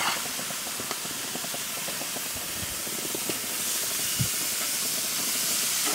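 Ham steaks sizzle on a wide-open, very hot infrared grill, a loud continuous hiss with scattered pops and crackles, steady and close, with no talking.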